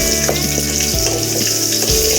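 Small onions sautéing in a pan for Tamil sundakkai vatha kuzhambu give off a steady close sizzle. Faint stirring scrapes sound throughout, with no voices.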